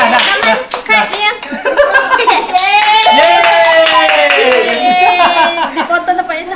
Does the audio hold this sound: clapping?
yes